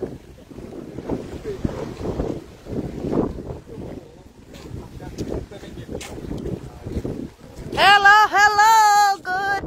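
Gusty wind buffets the microphone in heavy low rumbles that rise and fall, followed near the end by a loud, warbling tonal cry.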